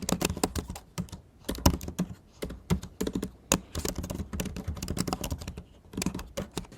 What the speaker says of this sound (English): I'm going to start typing my message.